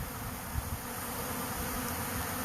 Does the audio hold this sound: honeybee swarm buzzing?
yes